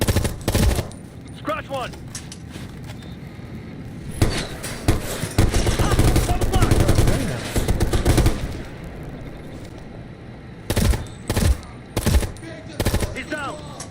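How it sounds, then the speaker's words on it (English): Light machine gun fire in a multiplayer shooter video game rattles in long bursts and sharp shots, loud and close, with short gaps between volleys while players shout over it. "Watch that LMG!"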